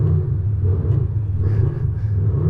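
A Mansory custom car's V8 engine revs in a steady, loud low rumble that swells slightly and holds without pause, close by.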